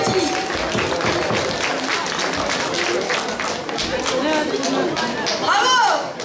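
A crowd at a superhero-themed prize ceremony claps for a prize winner, with lively applause running throughout under excited voices and a cheer near the end.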